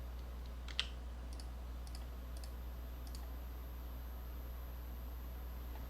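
Computer mouse clicks in 3D modeling software, a few faint, sharp taps spaced about a second apart over a steady low electrical hum.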